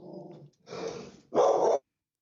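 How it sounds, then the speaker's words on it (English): Dogs bark and growl in three short bursts, close and fairly loud, the last bark the strongest, with no talking over them. "dogs are barking"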